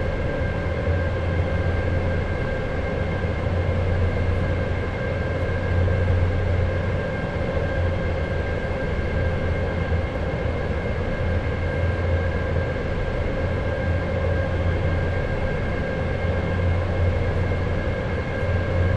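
Steady rumble and electric whine of an EU07 electric locomotive hauling eight coaches on the Wolbrom–Sędziszów line in SimRail, a continuous drone with sustained tonal hum throughout.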